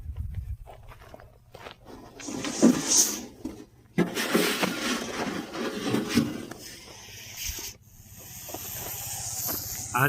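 A large Russell's viper, just released from a container, gives repeated loud breathy hisses like a pressure-cooker whistle, in bursts with brief pauses, close by and with no talk.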